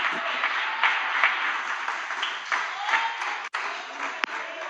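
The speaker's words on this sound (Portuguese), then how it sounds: "dê uma linda salva de palmas para o Senhor" Church congregation at a Portuguese-language service applauds, a continuous roar of clapping from many hands with faint voices and a couple of sharp knocks.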